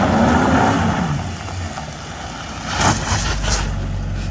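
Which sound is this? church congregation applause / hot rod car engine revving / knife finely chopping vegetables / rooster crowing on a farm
hot rod car engine revving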